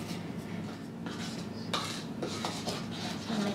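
A spoon works through thick Swiss apple pie batter in a bowl, giving repeated scraping and clinking strokes against the bowl, close and moderately loud, with no voices.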